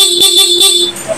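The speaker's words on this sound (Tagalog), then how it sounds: "Okay, stock horn." A close stock horn on a Honda ADV160 scooter beeping in a few short bursts then holding briefly, a thin nasal tone that cuts off abruptly.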